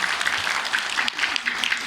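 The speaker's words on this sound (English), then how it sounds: "Can we have a big round of applause to our parents because they deserve that." Steady, dense audience applause for parents at a talk by a former Miss Nepal, filling the whole short stretch at an even, fairly close level.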